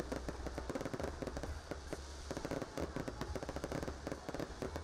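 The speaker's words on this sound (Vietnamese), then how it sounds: "được chiêm ngưỡng màn bắn pháo hoa tầm thấp lung linh, đẹp mắt" Low-altitude fireworks at a New Year's Eve celebration in Đông Triều, Vietnam, crackling in rapid, dense bursts of sharp pops and bangs that keep coming without a break, loud and fairly close.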